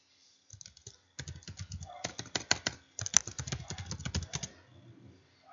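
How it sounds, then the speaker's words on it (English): Fingers tap out a student's last name on a computer keyboard, a quick irregular run of close, crisp key clicks in several bursts, alone in a quiet room. "I'm going to type in the last name for that student over here"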